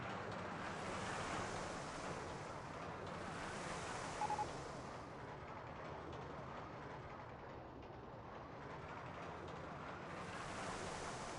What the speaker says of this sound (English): there were some incorrect water splashing sounds